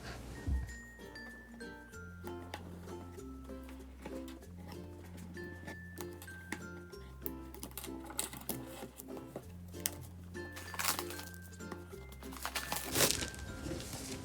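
Rustling and crinkling of packaging as a DJI Osmo Mobile 3 gimbal box is opened, with scattered clicks and handling noises under steady background music.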